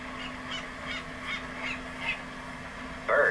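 Birds call in a series of short, rough caws spaced apart, fairly faint over a steady hum, with a sharper call right at the end.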